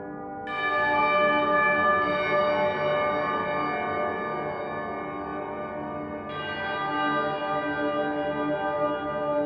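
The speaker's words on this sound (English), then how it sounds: "Far bells." Far bells synth preset from the Audiobro Silver sample library: sustained, reverberant bell tones ring out alone in a steady wash, with a fresh bright strike layering in partway through.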